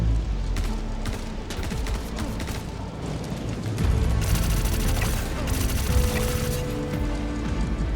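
Rapid gunfire in the space game Star Citizen during a mission aboard a Caterpillar ship, dense sustained bursts of shots with mechanical clatter, growing louder and busier partway through.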